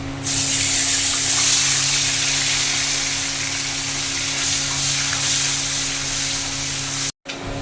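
Hot hilsa fish oil sizzles steadily in a pan after the fish has been fried, a continuous loud hiss that holds throughout and cuts out abruptly for a moment near the end.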